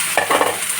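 Pinakbet with ground meat being stirred in a pan, a brief burst of sizzle and a couple of quick spatula scrapes, close and loud, with no one speaking.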